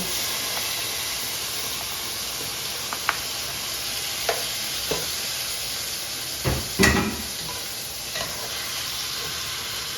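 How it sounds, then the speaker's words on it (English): Frozen tomato frying in a pan with ham, giving a soft steady sizzle and hiss broken by a few utensil clinks and stirring scrapes. "Yeah, it's still a little bit frozen, so let's let that come to a fry."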